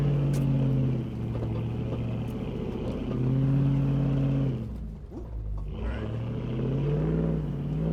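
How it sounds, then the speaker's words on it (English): A Ram truck's Hemi V8 revs while climbing an off-road hill, its engine note rising and falling in surges, easing off briefly midway before pulling again, moderately loud inside the cab. "just let that little Hemi eat up that hill. Sounded great."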